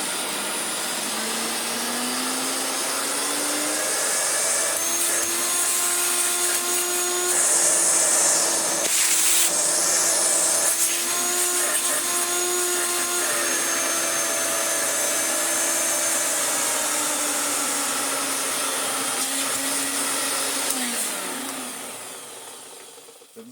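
A restored Hoover Turbomaster Electronic Total System vacuum cleaner runs for over twenty seconds with its tool suction on. The motor gives a loud, steady whine with a rising pitch, broken by brief airflow changes, before winding down at the end.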